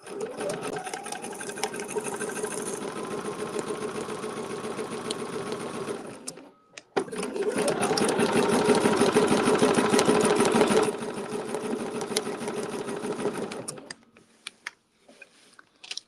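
A sewing machine stitches a quilt in fast, steady running bursts with a mechanical whir, stopping briefly, starting again, and trailing off into a few single stitches at the end.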